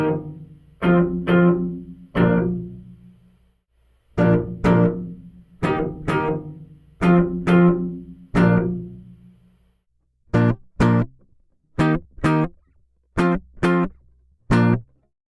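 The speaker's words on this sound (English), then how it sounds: "Those chords still really have a nice strong attack to them, but the reverb just warms it up and brightens it a little bit." Guitar chords recorded direct and run through a DIY plate reverb built with a contact mic, struck in a series of strong attacks, slower ringing strums first, then shorter choppy hits, each with a warm reverb tail.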